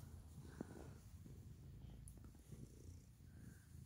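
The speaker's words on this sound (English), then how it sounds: "He's purring." Very quiet, close purring from a cat up for adoption, a soft continuous rumble with faint breathing and slight rustles and no one speaking.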